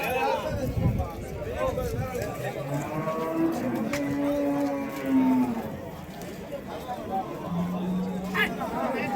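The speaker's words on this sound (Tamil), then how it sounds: "ஸோ உழவுக்கு பயன்படுத்தலாங்க இந்த காளைங்க." Plough bulls at the Vaniyambadi cattle market low in several long moos of varying pitch over the steady hubbub of a crowded market, with people talking throughout.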